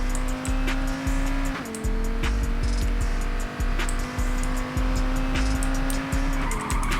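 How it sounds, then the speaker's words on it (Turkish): Game car in Payday 2 driving hard with a steady loud engine drone, repeated tire squeals and skids, and a brief gear-change dip partway through; no one speaks. "Bu araba çok zor sürülüyor."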